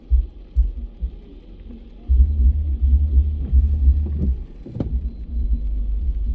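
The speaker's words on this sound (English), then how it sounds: "I think there's a car behind me blasting music." Music blasts from a car behind on a morning drive, heard as a deep, throbbing bass thump rolling under road rumble without talk.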